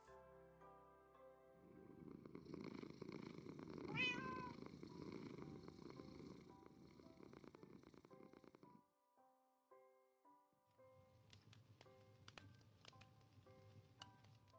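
A cat in the Minecraft video game purrs in a soft, steady rumble under gentle game music. It stops for a moment, then a second rumbling stretch follows.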